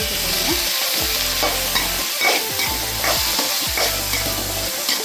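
Onions frying lightly in a pan for gobi manchurian, a steady close sizzle with repeated stirring scrapes throughout, no talk.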